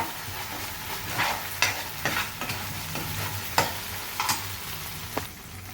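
Ginger-garlic paste with softened onion sizzles steadily in a pan while a spoon stirs and scrapes through it, with a few sharper scrapes against the metal standing out above the continuous frying hiss.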